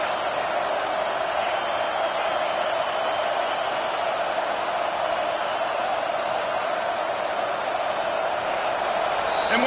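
Steady, broad roar of a large stadium crowd at a college football game, a dense sustained wash of cheering noise with no distinct peaks, loud and unbroken throughout.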